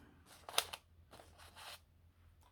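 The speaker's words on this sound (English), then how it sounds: "You can just fussy cut those out" Scissors snip a few times close up while fussy cutting painted rubber stamp flowers from paper, short crisp cuts with quiet pauses between.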